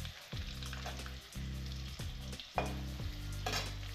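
Mashed onion and garlic fry in a hot pan with a steady crackling sizzle, interrupted by a few brief stirring scrapes and knocks.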